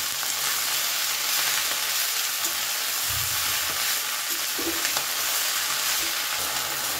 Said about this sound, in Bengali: এবারে এর মধ্যে দিয়ে দিলাম ধুয়ে রাখা মেথি শাক, সামান্য একটু লবণের ওপরে আমি দিয়ে দিই। এবারে ভালো করে একটু নাড়াচাড়া করে নেব।